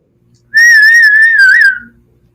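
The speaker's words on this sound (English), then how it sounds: "Whistle singing, okay." A person whistles a tune in one clear, loud, sustained phrase that wavers gently in pitch, about a second long and ending in a short fade, with no talking.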